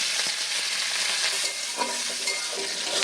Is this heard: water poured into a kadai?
no